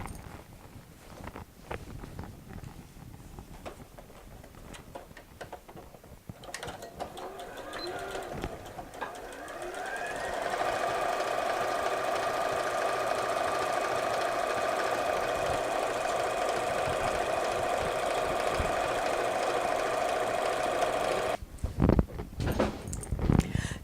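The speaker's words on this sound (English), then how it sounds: "So get sewing around these edges, so all the curves, leaving the top bits open." A sewing machine runs continuously around the curved edges of a beach tote bag, a steady whirring hum with a voice talking over it at the start and end.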